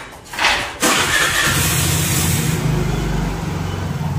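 A car engine cranks and catches within the first second, then settles into a steady, close idle that hums evenly for a few seconds with no one talking.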